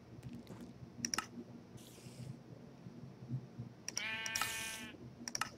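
Sheep bleat in a farming video game, heard as a couple of short bleats with clear harmonic calls near the end, over soft clicking like a keyboard or mouse and a low background hum.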